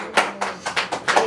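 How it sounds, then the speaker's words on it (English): Several people clap in a radio studio, a short ragged burst of about five loud, close claps in uneven rhythm. "Everybody clap in the studio."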